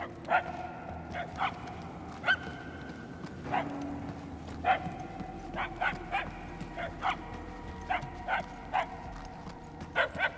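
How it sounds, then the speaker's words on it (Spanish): Repeated dog barks from a dog in the video game Guardians of the Galaxy, sharp and spaced at irregular intervals, moderately distant over a low ambient rumble. "Al menos los ladridos suenan más fuertes"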